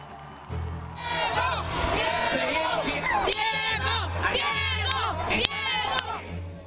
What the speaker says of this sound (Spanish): la competencia de gritos de apoyo se dio metro a metro